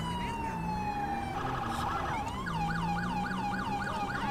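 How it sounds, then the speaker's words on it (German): Police car siren in GTA 5 with the LSPDFR mod, a loud continuous electronic wail that shifts into a fast repeating yelp, steady and close throughout. "Die Sirene klingt geil!"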